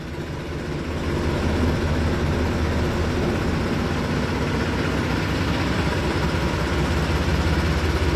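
A farm tractor's engine runs steadily at a low, heavy idle in a field, loud and close, with a constant rumble that swells slightly after the first second and holds unchanged throughout.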